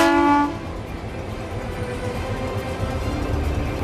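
A train pulls away carrying refurbished military tanks, opening with a short horn blast, then a steady, moderately loud rumble and clatter of rail cars rolling on, with no voices.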